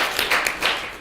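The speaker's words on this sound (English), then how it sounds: "Please hold your applause." Short burst of audience clapping at an election speech, a close, bright patter of hands lasting about a second.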